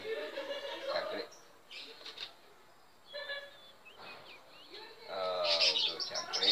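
Ashy prinia (prenjak) in captivity giving short chirps and high twittering calls in bursts, fairly close, with quieter gaps between and a busier cluster of calls near the end.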